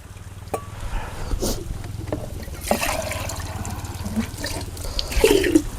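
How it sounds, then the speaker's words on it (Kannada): Water pours from a jug into a cooking pot in one steady, close splashing stream that runs for several seconds with small gurgles, and no one speaks. "1 ತಗೊಂಡಿನಿ ಅಕ್ಕಿ, ಇದರಲ್ಲಿ 3 ಹಾಕ್ರಿ ನೀರು."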